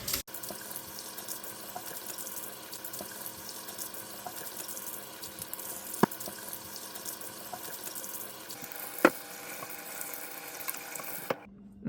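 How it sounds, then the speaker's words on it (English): Cool tap water runs steadily as a hand rubs bone dust off deer neck meat, a continuous close splash with a couple of sharp knocks before the flow cuts off at the end. "we're gonna rinse off all this little like bone dust down there. Just like cool water will do it"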